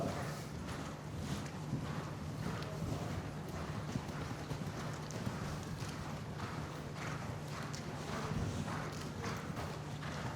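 Horse hooves beating on soft riding-arena footing during a gallop, a steady rhythmic drumming at moderate distance under a low background hum.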